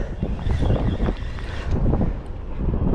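Steady wind gusting across a fishing pier outside a city during jig fishing for pike, a constant loud rushing roar buffeting the microphone with no talk.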